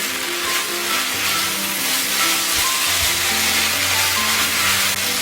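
Spicy pork with Cheongyang chili peppers stir-fries in a pan with a continuous hissing sizzle. Faint utensil knocks come through now and then, and no voices are heard.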